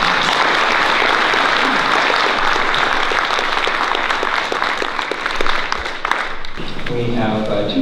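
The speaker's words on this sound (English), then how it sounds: "please give him a big round of applause." An audience at a film remembrance screening in San Jose gives a sustained round of applause for a guest, dense clapping that thins near the end as a voice begins speaking.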